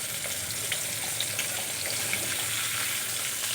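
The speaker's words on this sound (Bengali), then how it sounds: "মোটামুটি করে ভেজে নেব, খুব কড়া করে ভাজবো না মাছগুলো" Hilsa fish pieces fry in hot oil with a dense, even crackling sizzle that stays close and constant throughout.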